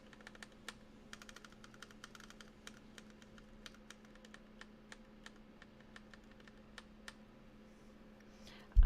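Typing on a Womier TKL mechanical keyboard with lubed switches, producing steady, fairly quiet key clicks in an irregular rhythm over a low hum, followed by a louder thump at the very end.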